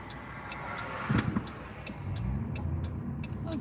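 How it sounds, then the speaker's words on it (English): A car drives past on a road near East Palestine, Ohio, its engine and tire noise swelling briefly and then easing into a steady road hum heard from inside a moving vehicle. "Watch that car."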